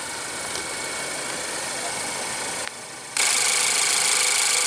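A 2016 Ford Focus with a 2.0 L inline four-cylinder engine idles with a steady, even hum, dipping briefly before returning louder and brighter, with no one talking.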